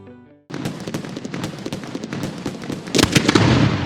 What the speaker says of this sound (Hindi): मुझे कोई ऐसा पटाखा दो जो बहुत जोर से आवाज करे।